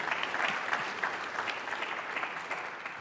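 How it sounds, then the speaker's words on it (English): A meeting audience gives a round of applause for a guest being introduced at an annual public meeting, a steady wash of clapping held at moderate distance for a few seconds. "Let's give her a round of applause"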